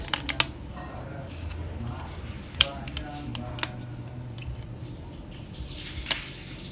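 Dried, dehydrated sourdough starter peeled by hand, giving a series of sharp crackling snaps and brittle ticks scattered over a quiet background, close and fairly faint between the louder cracks.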